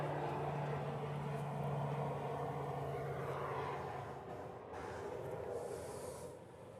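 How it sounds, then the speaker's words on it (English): A Pilatus PC-12 turboprop arriving from Lanai, a steady, fairly distant drone with a faint tonal hum that slowly fades out over several seconds. "That was a PC-12 coming in from Lanai."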